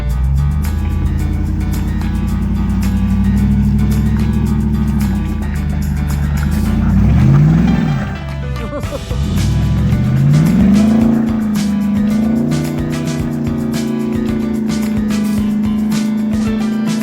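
A Jeep engine revs hard climbing a muddy off-road trail, the loud motor droning, dipping and surging as the throttle rises and falls, with whining pitch swings and brief spinning-tire noise.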